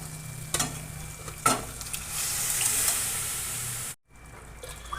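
Mutton pieces hit oil already cooked with red chili powder for a mutton rassa, with two sharp clatters followed by a loud, close sizzle that swells and then cuts off abruptly, leaving a quieter hiss.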